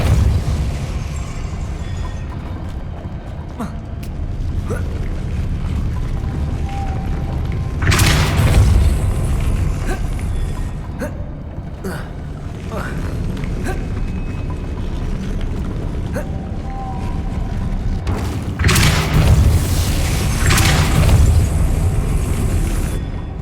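Depulso force spell from the Hogwarts Legacy video game, heard as two loud booming blasts with a sharp burst, the first near eight seconds and the second near nineteen, over a steady rumbling game ambience with small mechanical clicks.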